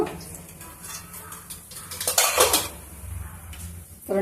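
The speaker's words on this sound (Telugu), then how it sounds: "ఇదే కడాయిలోనే వేసుకున్నాము ఇప్పుడు కొన్ని ఆవాలు కొంచెం జీలకర్ర" Mustard seeds and cumin hit oil in a kadai amid metal clatter and spoon scraping, a louder burst of crackle and clinks midway, then quieter pan knocks.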